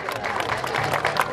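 Applause from an audience at a community event in Lipănești commune, Prahova, honouring local performers: a steady, dense wash of many hands clapping together, fairly loud and unbroken for over a second, with a faint murmur of voices underneath.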